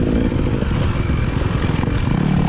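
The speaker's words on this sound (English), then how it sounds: "Not sure if he was able to hear me or not with my quiet little 2-stroke behind that big old 4-stroke" A two-stroke dirt bike rides behind a bigger four-stroke motorcycle during an off-road race at a gun range, with loud, steady, rough engine noise close by and some clatter from the track.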